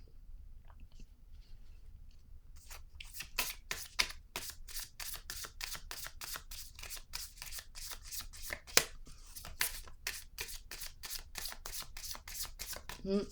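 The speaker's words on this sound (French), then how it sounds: "Je vais piger une autre carte" Cards are drawn and shuffled close up in a quiet room, a rapid steady run of crisp flicking riffles following a brief softer handling at the start.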